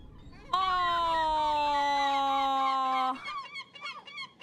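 A seagull calls from a played video: one long, steady, nasal cry holds for about two and a half seconds, then breaks into a few short, choppy calls.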